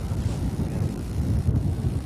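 Steady wind buffets the microphone with a low, rumbling roar that carries throughout, with no voices, on a cool day in outback Queensland between Cloncurry and Boulia.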